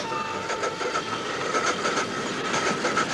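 A man imitates train mechanical noises with his throat, producing steady rolling clickety-clack rhythms and rail-like hiss in a close, continuous vocal performance with no spoken words.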